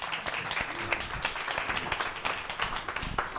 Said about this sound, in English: Can we get a round of applause for Nick?